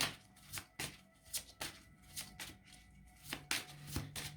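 Tarot cards are shuffled and drawn in a series of quick riffling, slapping bursts that repeat close up at an irregular rhythm, fairly faint, with no talking.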